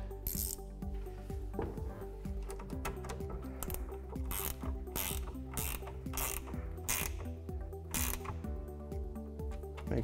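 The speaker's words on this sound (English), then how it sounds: "I'll grab my 3/8 and 7/16 wrench." A hand wrench ratchets in rapid, repeated clicking bursts as bolts are snugged on a windshield mount for a Polaris Ranger XP 1000 side-by-side, close and steady throughout with no talk.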